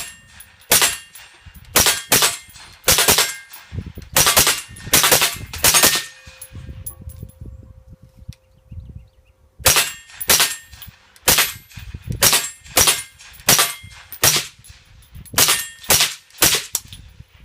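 A Keltec CMR-30 .22 WMR rifle fires at metal targets in loud, rapid close strings of shots, grouped in bursts and separated by short pauses, with a longer quiet gap midway.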